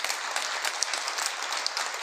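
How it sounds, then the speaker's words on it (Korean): Audience applause at a Buddhist dharma assembly lecture, a steady fairly faint patter of many hands clapping with no talk. "박수 한번 쳐주세요."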